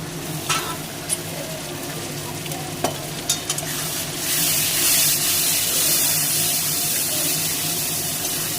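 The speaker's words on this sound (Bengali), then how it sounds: "মশলাটা তেলে দিয়ে দিচ্ছি।" Spice paste hits hot oil in a pan for a prawn dish, bursting into a loud, steady sizzle midway after a few quiet scrapes and clinks of stirring.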